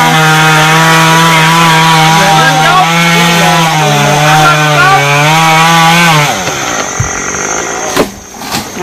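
A chainsaw fitted with a new 45 cm bar cuts into a large tree near power lines and a fence, running loud and steady for about six seconds before dropping away to quieter sounds.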